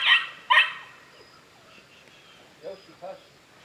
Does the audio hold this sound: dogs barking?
yes